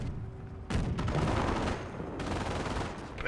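Sustained bursts of machine gun fire from MG42 bunkers in a WWII strategy video game, dense and loud, with a brief pause before rapid fire resumes and continues throughout.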